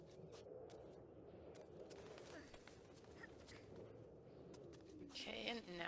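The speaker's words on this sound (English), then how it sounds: "there's new birds" Pigeon-like cooing birds in the video game Submerged, soft repeated coos and calls over a steady ambient game soundscape, with a louder burst near the end.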